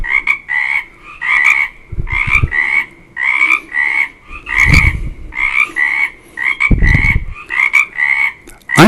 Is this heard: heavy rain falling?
no